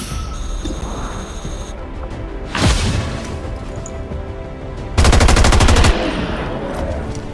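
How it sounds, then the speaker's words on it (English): Automatic weapon fire in the video game XCOM 2, a short rapid burst around the middle and a loud, dense rattling volley near the end over a steady background of game ambience, with no talk. "Weapons burning ammo fast."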